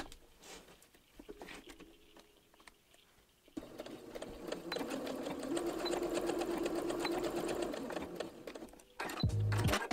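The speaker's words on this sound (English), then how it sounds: "sew across the binding and enclosed elastic with a double stitch" A sewing machine runs a double stitch across binding and enclosed elastic on a pair of overalls. After a quiet start it settles into a steady, close whirring run, then ends with a loud thump.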